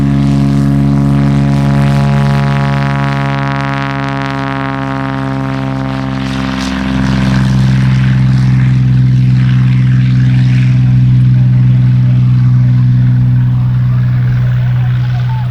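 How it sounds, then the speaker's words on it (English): A Cessna 206 propeller plane with a skydiver aboard takes off at an air show, its engine a loud, steady droning hum that dips slightly, then swells again as it powers away. "there goes the Cessna 206 with the Skydiver on board in addition to the pilot"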